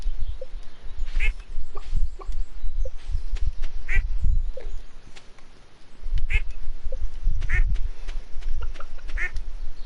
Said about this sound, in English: I gotta go find one single duck in the chaos of all of these animals